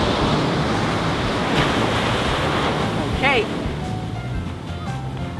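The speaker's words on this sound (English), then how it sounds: "Get ready for a wave and I'll scoop up some water." Ocean waves wash onto a beach with steady broadband surf and wind noise, loud and continuous, while a person speaks briefly over the water.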